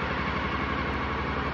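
A Honda VFR motorcycle engine runs at an assisted idle, a steady, close, even pulsing rumble with a regular beat and no talking over it.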